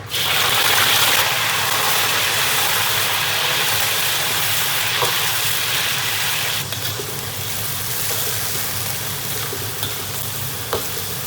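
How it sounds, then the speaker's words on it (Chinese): Rabbit meat stir-frying in hot rapeseed oil in a home kitchen for Sichuan cold-eaten rabbit, a loud, dense, continuous sizzle with occasional stirring scrapes, close up and with no talking. "油烧热后下兔儿"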